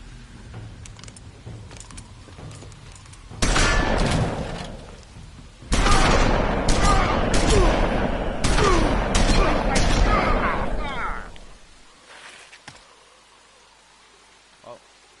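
A burst of loud gunfire erupts in The Wolf Among Us, an episodic crime-drama game, with rapid overlapping shots and crashing impacts sustained for several seconds before cutting back to quiet ambience.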